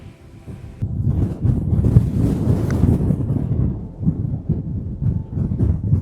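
Strong gusty wind buffeting across an open sandbelt golf course, a loud, low rumbling roar that swells and surges continuously, close to the microphone.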